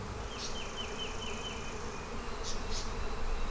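Honeybees at an open beehive make a dense, steady buzz up close, with a few individual bees droning louder as they pass near.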